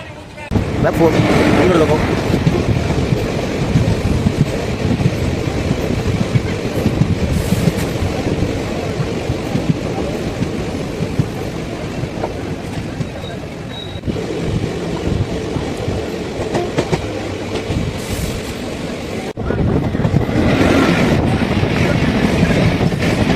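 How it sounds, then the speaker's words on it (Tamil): A passenger train runs from Madurai toward Coimbatore, its steady rumble and rattling carriage noise filling the scene continuously, with brief shifts in texture as the train moves along the track. "வாங்க மதுரையில் இருந்து நம்ம ஸ்டார்ட் பண்ணலாம் நம்முடைய ட்ரெயின் ட்ராவல்"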